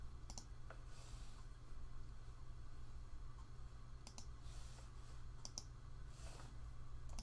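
A few sharp computer mouse clicks, isolated and spaced several seconds apart, sound over a steady low electrical hum while using image-editing software.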